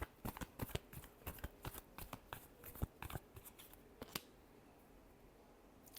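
Tarot cards are shuffled by hand at close range, a rapid series of crisp riffling flicks and taps in irregular bursts that stop about two-thirds through, leaving quiet room tone.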